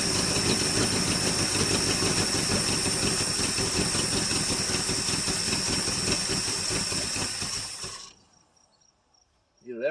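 The V8 engine of a 1973 International 1110 manure spreader, cold-started after about five years, runs loudly and steadily with a rough, hissy drone, then cuts out near the end, leaving brief near-silence.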